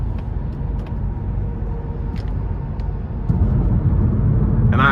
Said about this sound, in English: I'm just hearing a little bit of feedback from the wind noise